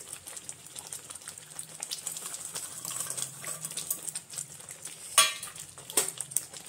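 Paneer being stirred into masala in a pan, with scraping and clinking of a spoon against the pan over a soft frying background, and a couple of sharper metallic knocks near the end.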